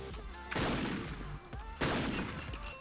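Two loud, sharp sniper rifle shots ring out in a video game, roughly a second apart, each with a broad burst and a lingering tail over steady game background sound.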